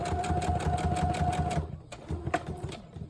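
Close sewing machine stitching fabric for a rainbow book, a steady rapid needle chatter that pauses briefly and then resumes in short bursts, no talking.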